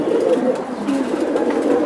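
Silver Giribaz pigeons coo steadily at close range, a continuous low throaty rolling murmur filling the whole stretch with no talk over it.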